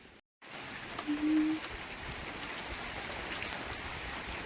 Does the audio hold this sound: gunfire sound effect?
no